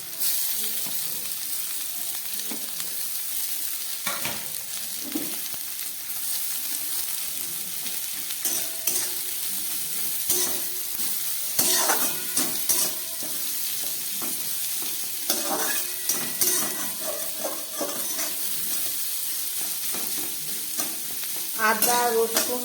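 Chopped green chilli, onion, capsicum and cabbage fry in a pan, a continuous loud sizzle broken by repeated scraping stirs and clattering spatula strokes, close up with no voices.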